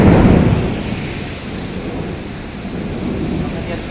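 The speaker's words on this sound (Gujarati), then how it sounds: "આને વરસાદ કહેવાય" Steady heavy rain hisses through a thunderstorm, with a low rumble that swells at the start and then settles into continuous broadband wash.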